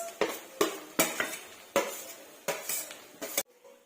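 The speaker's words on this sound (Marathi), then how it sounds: "आता घालूया बटाटा." Potato pieces tumble into a pan for a spiced Marathi potato dish and get stirred with a metal spoon, giving repeated sharp clanks and scrapes with a faint sizzle between them, then a quiet pause at the end.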